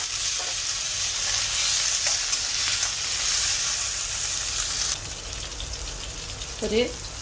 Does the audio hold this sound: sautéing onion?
yes